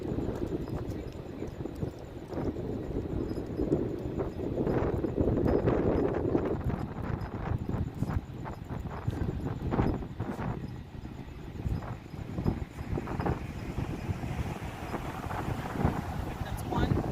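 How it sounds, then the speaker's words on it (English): Wind gusts on the Las Vegas Strip at night, a steady rumbling buffet against the microphone, mixed with street bustle and scattered clatter, while people talk throughout. "Here comes the wind again. Every time this Wizard of Oz ad comes on, the wind picks up."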